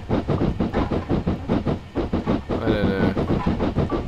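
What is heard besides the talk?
steam locomotive running, from the video game Train Simulator 2014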